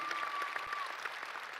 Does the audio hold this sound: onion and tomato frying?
no